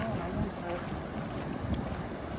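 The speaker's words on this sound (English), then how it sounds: "It's very cold and very windy." Strong, cold wind at Kingston dam wall buffets the microphone in a continuous, blustery roar with gusts rising and falling.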